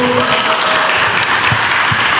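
Warm, sustained applause from a crowd at a building completion ceremony, steady and dense throughout with no voices.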